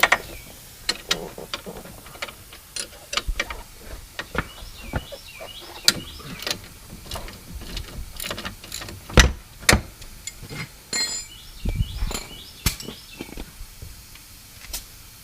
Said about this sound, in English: with some air tools in here, speed up the process a little bit. That's tightening.